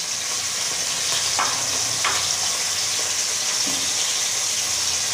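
Bone-in chicken hits hot oil in a soup pot with a steady broadband sizzle, marked by a few brief scraping stir strokes, close and fairly loud throughout.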